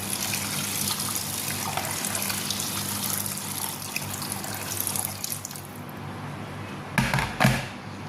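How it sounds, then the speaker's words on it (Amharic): Boiling water is poured into a cooking pot in a long, steady gushing stream, close and continuous, easing off before a couple of brief clunks and splashes near the end. "የፈላ ውሃ እንጨምርበት"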